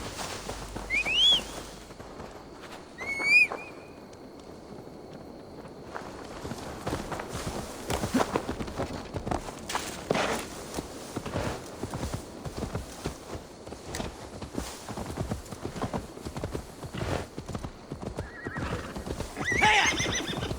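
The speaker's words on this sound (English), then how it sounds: "Now to deliver Magni his horse" A horse in Assassin's Creed Valhalla lets out two shrill neighs early on, then its hooves clip-clop at a steady walk for the rest of the stretch, close and clear over light ambient sound.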